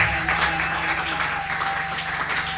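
A church congregation at a Sunday service applauds with a dense, sustained wash of clapping that stays steady throughout, while a low hum runs underneath.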